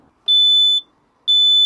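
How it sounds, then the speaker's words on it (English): A small fire alarm sounds two sharp, loud, high-pitched electronic beeps, each about half a second long and separated by a brief pause, heard close up with no talking. "That's the fire alarm."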